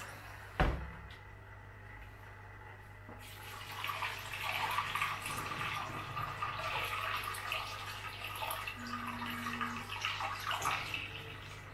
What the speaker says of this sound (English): I will pour back in.